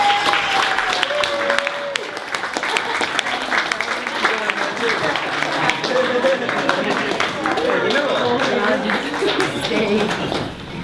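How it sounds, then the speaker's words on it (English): Wedding guests give a big round of applause, loud dense clapping that holds steady throughout, with a few voices and cheers mixed in under it. "give Emily and Lennon a big round of applause"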